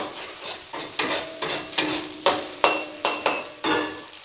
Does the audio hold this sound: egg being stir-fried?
yes